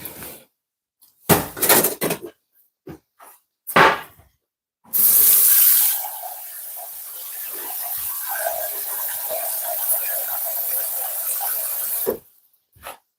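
A kitchen tap opens and runs steadily for several seconds to fill a kettle for tea, preceded by a few clattering handling knocks and ending with the flow shutting off.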